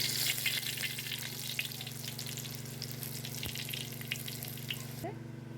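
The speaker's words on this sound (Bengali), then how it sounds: "আমার আলু ভাজাগুলো হয়ে আসছে," Potato pieces fry in oil with a continuous crackling sizzle, close and fairly loud, ending in a brief clink of a utensil near the finish; no one speaks.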